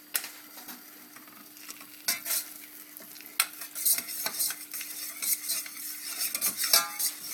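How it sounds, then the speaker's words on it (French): About 25 grams of butter melts gently in a pan for béchamel, a soft sizzle under frequent scraping and stirring clicks from a utensil against the pan, close and irregular, with no talk. "Alors on va laisser le beurre fondre tout doucement"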